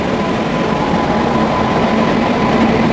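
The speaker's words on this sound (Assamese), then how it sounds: "এইটো মালবাহী গাড়ী হয়।" Freight train rolling past a station platform, a loud, steady broadband rumble of wagons with a faint whine, unbroken throughout and close by.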